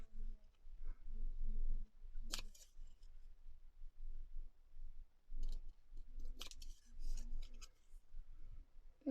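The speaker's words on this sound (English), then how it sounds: "do some speed fussy cutting with huge scissors" Huge scissors snipping through paper during quick fussy cutting for a botanical notebook, a string of close, crisp blade strokes with a few sharper snaps, quiet and steady, without speech.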